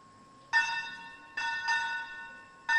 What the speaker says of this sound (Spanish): La campana para la clase.